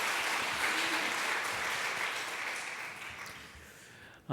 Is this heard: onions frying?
no